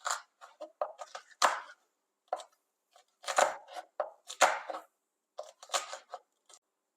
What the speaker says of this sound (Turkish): 4 diş sarımsağım var. Üzerlerine vuruyorum. Onları da birazcık ufaltıyorum.